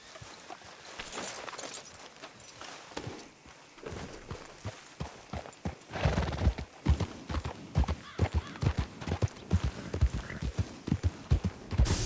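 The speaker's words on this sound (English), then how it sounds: "that's a lot of horses" Many horse hooves clopping in quick, overlapping rhythm in Red Dead Redemption 2, growing louder and denser partway through, like a herd trotting close by.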